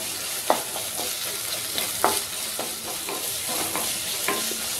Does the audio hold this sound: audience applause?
no